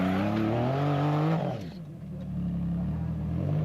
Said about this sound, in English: Second gear, full throttle.